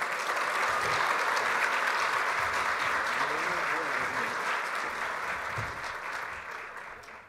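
Applause at a university graduation ceremony in Santiago, with a broad crowd clapping steadily and warmly before slowly thinning toward the end.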